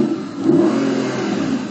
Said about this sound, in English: It's only the V8, the original engine we put in the car.